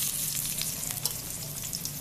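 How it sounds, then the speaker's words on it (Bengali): Lentils tempered in hot mustard oil give a steady, close frying sizzle with crackling bursts throughout, heard alone without any voices. "তারপরে আমি এই তেলের মধ্যে ডালটা সম্বার দেব"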